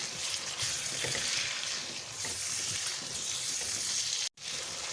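Ground white cumin and other spices sizzling in soy sauce in a pan, a steady, bright frying hiss with faint stirring scrapes, briefly cut off near the end.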